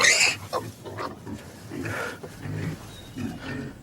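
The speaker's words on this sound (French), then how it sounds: "C'est un cochon en très bonne santé qui a un cri tout à fait standard." A healthy pig in a farm enclosure squeals loudly and close up, a sharp shrill cry at the start followed by a run of lower grunting snorts and squeaks.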